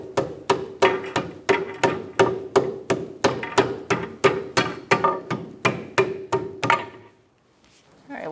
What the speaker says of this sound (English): Slide in your back bushing first. You might have to tap it in.